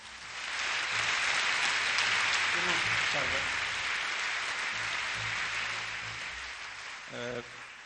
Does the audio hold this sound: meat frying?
no